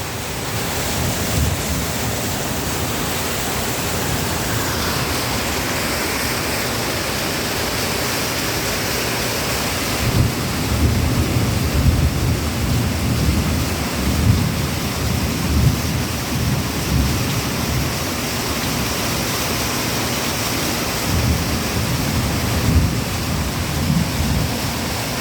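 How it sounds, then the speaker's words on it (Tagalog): Heavy, continuous rain pours steadily over a creek area in a flood-prone low-lying place, a dense broadband roar that swells louder partway through, with no talking. "ituloy-tuloy yung ulan"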